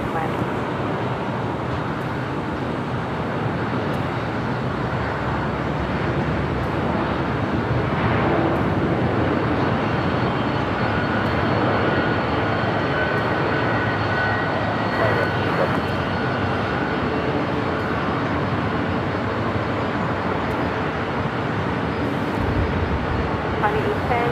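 Airliner jet engines on landing approach to runway 25 Left at Los Angeles LAX, a steady broad roar holding loud throughout the clip with faint voices mixed underneath.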